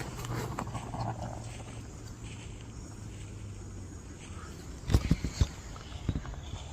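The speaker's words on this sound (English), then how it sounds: "And it sounds like someone's just walking around." Footsteps crunch near a campsite at night, a few heavy, uneven thuds close to the microphone after a stretch of quiet outdoor ambience.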